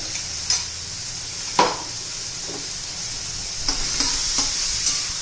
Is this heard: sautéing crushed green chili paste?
yes